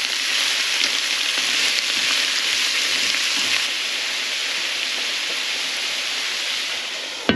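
Celery and carrots sizzle loudly in a hot pan for potato lo mein with tofu, a steady dense frying hiss running unbroken and close throughout with no talking.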